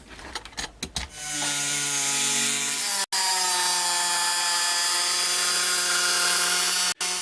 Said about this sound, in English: I'm now just going to trim off any excess foam so it's exactly the same shape as the lid.